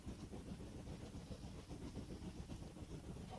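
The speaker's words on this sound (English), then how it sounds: "Here's the train up ahead." A train rolls along the tracks in Red Dead Redemption, giving a steady low rumble with faint clatter and hiss that holds evenly at a quiet level, with no voices.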